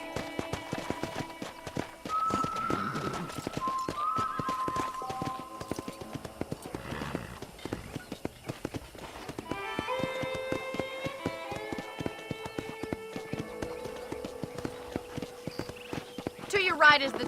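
A horse's hooves clip-clop at a steady walking rhythm in Red Dead Redemption, with in-game voices talking over it and tonal music underneath.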